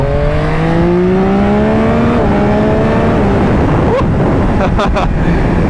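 A 2021 Yamaha MT-09 motorcycle engine revs up through the gears while riding, pitch climbing then dropping at each shift, loud and close with heavy wind roar throughout.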